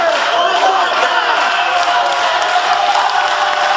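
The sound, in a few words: audience applause for basketball team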